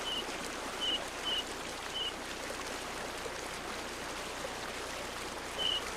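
Mountain stream near Avalanche Gorge in Glacier National Park, a soft steady rush and trickle of water with a few brief high bird chirps breaking through now and then.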